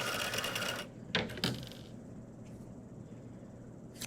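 A sewing machine stitching a pirate eye patch runs steadily for under a second, stops, and then gives a few short clicks and taps at close range.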